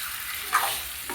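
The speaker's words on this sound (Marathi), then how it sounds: "त्याला चांगलं हलवून घेऊया. मस्त असं छान ह्याला परतून घेऊया." Fish curry masala is stirred and sautéed in a pan, with a steady low sizzle and one brief scrape of the spoon near the middle, close and fairly quiet.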